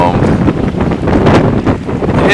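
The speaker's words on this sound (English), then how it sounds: "Some pretty good winds all day." Strong gusty wind of about 10 to 20 mph buffets the microphone in loud, uneven rushes of noise throughout the short stretch.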